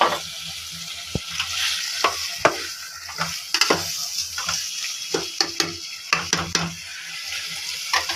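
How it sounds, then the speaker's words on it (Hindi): Eggplant bharta with tomatoes sautés in a pan with a low sizzle, broken by repeated scraping and clacking stirs at an irregular pace. "हम लोग बैंगन के भरते की सही तरह भुनाई कर रहे ताकि टमाटर और गल जाए।"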